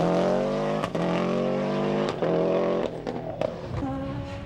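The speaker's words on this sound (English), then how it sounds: "exactly what he should be doing to wrap up the British title in the Gordon Spooner Escort" A Ford Escort Group A rally car, the Gordon Spooner entry, races a stage of the 1996 Ulster Rally. Its engine roars loud and close throughout, with a few brief dips where the driver changes gear or lifts off.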